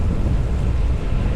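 Wind buffeting a microphone on a boat on the tidal River Trent, a steady low rumbling roar with water noise, close and continuous.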